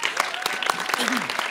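An audience applauds at the results announcement of a contest, a short burst of dense, steady clapping close by, with a voice faintly present underneath.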